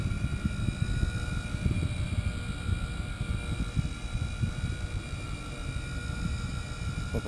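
A Blade mCP X 2 RC helicopter hovers inverted on its maiden flight, a steady buzzing rotor whir with a fluttering low rumble, moderately close and continuous without speech.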